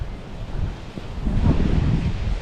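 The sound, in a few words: southeast wind on a beach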